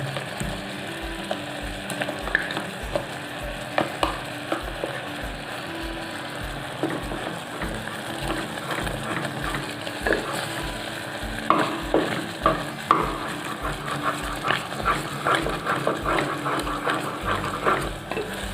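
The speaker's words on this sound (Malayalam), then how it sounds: "നമ്മളുടെ പഴം അടിച്ചത് അങ്ങോട്ട് യോജിപ്പിച്ച് കൊടുക്കാം" Mashed banana stirred with jaggery in a pan for a sweet, steady scraping and soft sizzling with a regular clicking rhythm underneath, close and moderately loud, continuing for a long stretch without talk.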